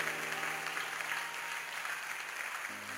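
Church congregation applauding steadily for about three seconds, a dense wash of clapping that stays loud throughout and tapers slightly near the end.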